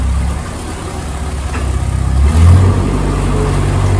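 A narrowboat engine runs hard and steady at high revs on a low canal, a loud low throbbing drone that swells slightly midway.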